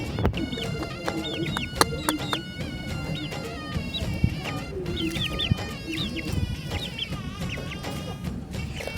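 Several chickens cluck and squawk continuously nearby, with sharp calls rising over a busy, noisy farmyard background.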